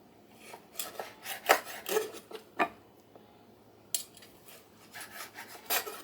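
A knife slicing through crisp freeze-dried steak into strips, giving a series of dry, raspy cutting strokes at close range with short pauses between them and no talking.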